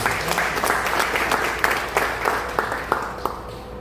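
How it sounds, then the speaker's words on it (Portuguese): A congregation applauds at a Christian church service, with steady, fairly close clapping from many hands throughout and a few sharper individual claps standing out above the mass. "Uma salva de palmas para Mendes"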